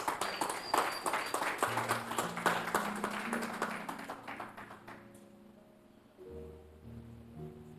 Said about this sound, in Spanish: Dale un fuerte aplauso al Rey de Reyes.